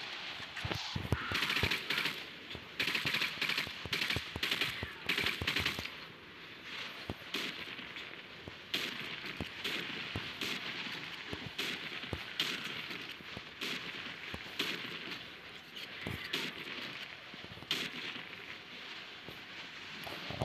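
Rapid bursts of gunfire in the zombie shooter Into The Dead 2, during the Puma Event Apocalypse. The shots are dense and continuous at first, then thin out into scattered cracks over a steady noisy game background.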